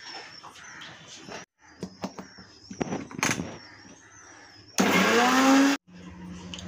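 A mixer grinder crushes spice masala for sambar in one loud, dense whirring burst of about a second, surrounded by quieter kitchen clatter and knocks.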